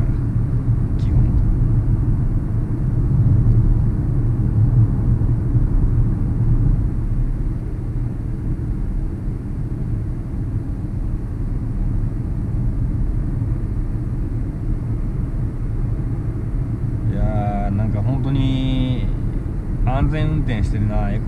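A Suzuki Wagon R loaner car driving gently, with a steady low cabin drone and road rumble throughout; voices talk near the end.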